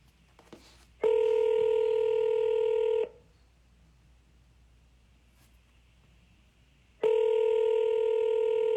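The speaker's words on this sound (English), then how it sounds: "I'm going to call from a different phone number" Two long, steady electronic tones sound from a phone line while dialing out from a different number, each lasting about two seconds with a quiet gap between, loud and close with no voices.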